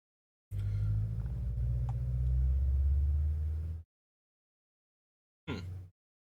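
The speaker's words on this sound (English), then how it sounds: "my microphone, I think, was picking up the loud car engine outside" A loud car engine outside rumbles heavily for about three seconds, then cuts off, followed by a short, fainter burst of rumble after a pause.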